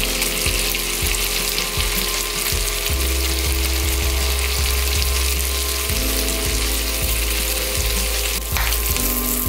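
Meatballs and chicken sausages sizzling in a hot pan, a dense, loud, constant frying crackle close up, with soft repeated thumps and scrapes from turning the pieces underneath.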